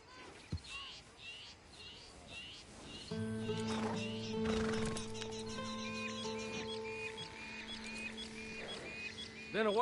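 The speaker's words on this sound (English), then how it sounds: "Been a while since you rode a horse." Horse in the Red Dead Redemption 2 video game whinnies clearly near the end, with hoof clip-clops and a brief neigh earlier, over a sustained musical tone bed and ambient background.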